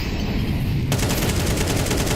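Rapid rifle gunfire from a Counter-Strike 2 match in an esports tournament group stage, a dense rattling burst of shots that starts abruptly partway through and keeps going steadily, loud and close over a noisy game background.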